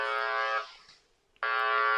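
A loud, harsh electric buzzer sounds close by for quitting time, one steady tone that fades briefly, then a second blast starting abruptly after a short gap.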